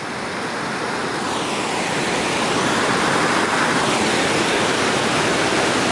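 The Magareva River near Magarevo, Macedonia, flows through pine forest as a loud, steady, unbroken rushing of water, close and alone.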